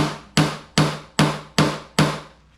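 A small hammer taps parts into a cleaning cart in five sharp, evenly spaced blows, each ringing briefly before the next strike, close and fairly loud with no talking.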